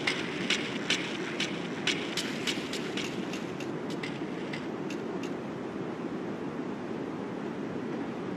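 A train in the Grand Theft Auto Vice City video game rolls past steadily with a broad rumble, and a run of sharp, evenly repeating clacks rings out over the first half before the noise settles into a continuous drone.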